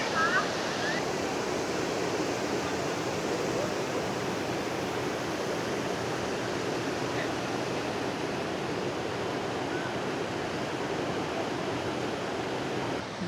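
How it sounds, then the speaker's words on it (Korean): Doupotang waterfall at Huangguoshu in Guizhou, China, a broad but short cascade: a constant, dense roar of rushing water fills the whole stretch evenly, steady and unbroken. "안반을 쉬어가면서 세차게 흘러내리는 물줄기가 정말 장관이네요"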